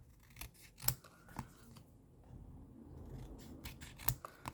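Scissors snipping through a paper album page, several sharp close cuts spaced irregularly with a soft sliding rasp between them, quiet and alone.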